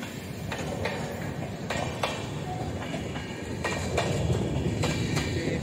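A train moves through Kampur railway station, its wheels clicking and clacking over rail joints in a steady rhythm with a loud, continuous rumble beneath.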